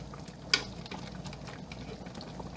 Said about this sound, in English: Did you see how it's bubbling and sizzling and falling apart?